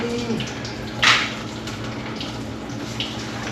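Engine coolant drains from a car after the cap is popped, a steady trickling pour with one brief louder splash partway through, close and alone.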